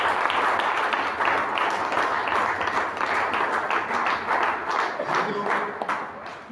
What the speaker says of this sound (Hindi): उसके लिए जोरदार ताली बजाएं।